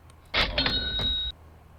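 Sales software plays a short electronic chime to confirm a completed transaction: one brief bright tone of about a second, with a sustained high ring, heard alone.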